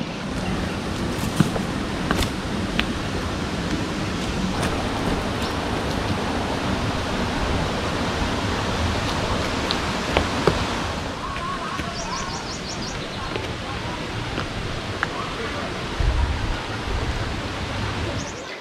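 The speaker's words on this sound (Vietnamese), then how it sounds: "mọi người có cảm giác là nghe cái tiếng thác rất là lớn đúng không?" A waterfall at Hồ Đá Xẻ pours cold water down from above, making a loud, steady, close roar that runs unbroken throughout.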